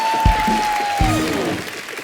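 An audience on a TV comedy show claps for a singing guest, with steady applause under a sustained tone and brief louder thumps.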